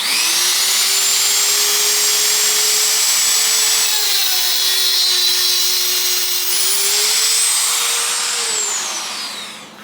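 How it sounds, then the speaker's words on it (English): A Dremel cut-off tool cutting through a vintage bike quill stem, a loud continuous high-pitched whine with a shifting tone as the load changes, close and unbroken, fading slightly at the end. "I got like a Dremel cut-off tool, and I'm just going to very carefully cut through this"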